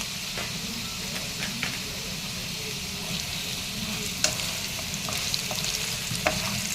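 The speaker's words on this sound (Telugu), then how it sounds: "ఆలు కొంచెం వేగింది. నేను ఇందులో సన్ఫ్లవర్ సీడ్స్ వేస్తున్నాను" Potato pieces fry in a pan with sunflower and pumpkin seeds added, a steady close sizzle and crackle broken by occasional small pops and stirring scrapes, with no talking.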